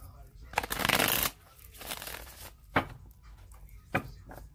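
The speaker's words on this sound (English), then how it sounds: "I'm going to shuffle it 3 more times" A deck of tarot cards being shuffled, with a long loud riffling burst early on followed by quieter shuffling and two sharp card taps, all close up with no talk.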